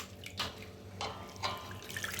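Cloudy rinse water is poured off grated potatoes in a kitchen, several short splashing gushes separated by quieter gaps, close and fairly soft, with no speech.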